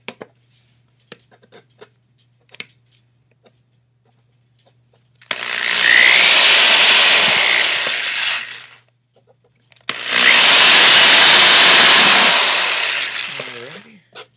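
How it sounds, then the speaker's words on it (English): A power drill whirs in two long bursts of several seconds each, loud and close, drilling holes for potentiometers and jacks, with brief clicks and handling noises between them. "I'll sit here and I'll drill one of the potentiometers for you"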